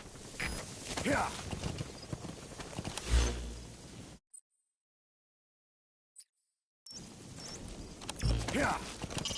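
Horse hooves clip-clop at a brisk pace in Metal Gear Solid V: The Phantom Pain, with mechanical gear rattles; the sound cuts to near silence midway, then returns.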